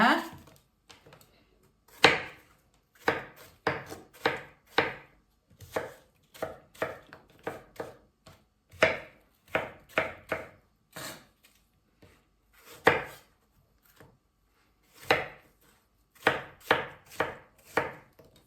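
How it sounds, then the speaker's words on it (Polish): A knife dices peeled apples into small cubes on a board for an apple cake, giving irregular bursts of close, sharp chopping taps with short pauses between runs. "Jabłka mamy obrane, więc teraz sobie pokroimy w drobną kostkę."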